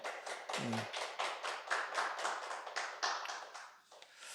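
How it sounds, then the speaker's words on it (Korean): A church congregation at a Thanksgiving Sunday service claps in celebration of a new member's confirmation, rhythmic clapping in a steady, loud, evenly pulsed beat, with a brief low voice early on. "박수로 축하하겠습니다"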